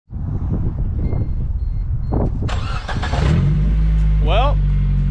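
A Geo Tracker engine starts on a test drive, cranking briefly and then settling into a loud, rough idle that rises in rumble, with people talking over it.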